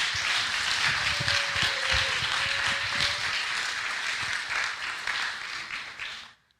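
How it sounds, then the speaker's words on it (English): An audience at a storytelling slam in a community center applauds steadily, dense close clapping lasting several seconds before cutting off abruptly at the end. "please clap for David Heinen."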